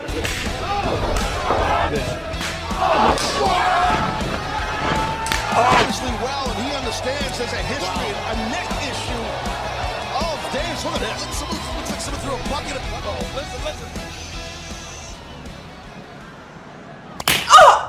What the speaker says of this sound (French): Ça, c'est une vraie claque.